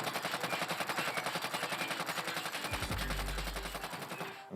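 Krig assault rifle fired in a video game, a steady rapid stream of loud, dense shots held for about three seconds, then a deep low rumble as the burst ends; no talk.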